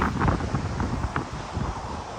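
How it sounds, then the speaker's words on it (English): Steady wind buffeting the microphone on a riverside hike, a low rumbling roar with gusty swells throughout and no voices. "It's kind of windy, so I'm sorry if you can't hear me."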